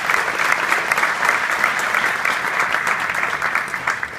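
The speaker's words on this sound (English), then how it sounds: "A hearty round of applause." Hearty applause from a conference crowd, a thick continuous patter of many hands clapping, steady and full for the whole stretch.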